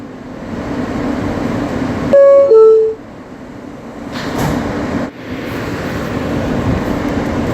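An R160 car on the New York City subway M local pulls in toward Myrtle Avenue-Broadway, with a steady rumbling roar throughout, a short rising two-tone electronic chime in the middle, and a brief whooshing swell after it.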